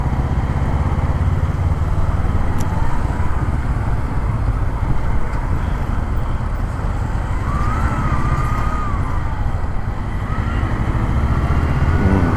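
Highway traffic heard from a Honda NX500 motorcycle, a constant loud roar of engines and wind with a few faint horn tones rising above it throughout.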